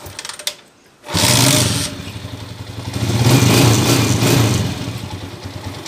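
A freshly overhauled 24-year-old Honda TMX 155 De Platino motorcycle engine catches after a few clicks, settles into a close, loud idle, then revs up and eases back down.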